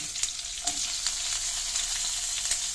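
Onions with cumin frying in a pan, a steady, bright hiss of sizzling oil close up, broken by a few light clicks of stirring, with no one talking.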